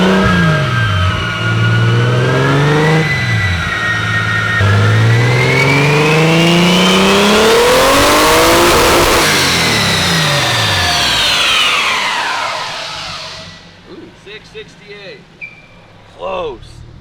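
A car revs hard on a dyno, engine climbing through a long loud pull before cutting off, the fuel system with its single pump on small lines struggling to keep up; brief voices follow as it winds down.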